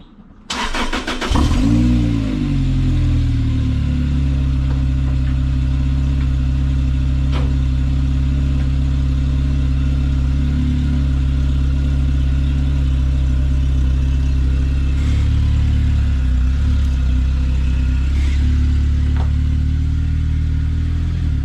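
A Lotus Exige S2 sports car engine fires up and then idles loud and close with a steady, deep hum, brief blips of revving rising now and then, with no voices.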